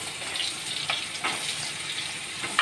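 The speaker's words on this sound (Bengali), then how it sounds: "এবার আলুগুলো ভাজতে দেব।" Potatoes frying in hot oil with cumin seeds and chilli, giving a steady close sizzle broken by a few brief bright crackles, with no talking.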